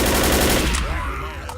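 Rapid automatic gunfire from the video game Left 4 Dead, a loud close burst of fast shots that fades into a short echoing tail.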